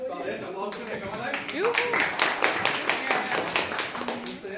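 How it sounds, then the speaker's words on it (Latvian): A group at a workshop claps for a team, a dense stretch of applause rising in the middle, with voices talking over and around the clapping throughout. "Labi, paldies, aplausi, ka komandai."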